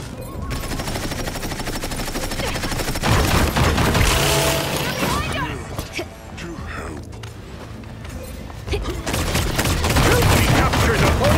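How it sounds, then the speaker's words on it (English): Gunfire in the video game Paladins, with rapid bursts and fusillades of shots, some booming hits, loud and dense over most of the stretch and easing briefly midway, with a voice heard among the shots. "Why are they shooting?"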